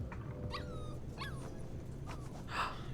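Mushroom the dog whining in Life is Strange 2, a few high rising whimpers and yips over low game background rumble, fairly faint, with no talking.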